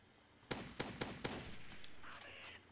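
Gewehr 43 semi-automatic rifle firing in a Roblox WW2 shooter: four sharp, fairly quick shots in a row, then a fainter fifth and a softer tail of mechanical clatter, all moderately loud and close.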